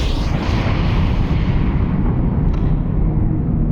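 A torpedo launch erupts in Lone Echo 2 aboard a space setting, a loud, dense roaring rush of noise that stays steady and close for several seconds with no gaps.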